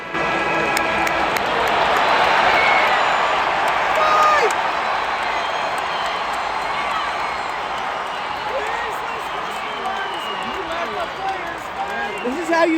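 An arena hockey crowd at Fiserv Forum in Milwaukee cheers a fight during a Blackhawks–Wild preseason game, a loud, sustained roar of shouts and whoops that swells early and stays dense and steady throughout.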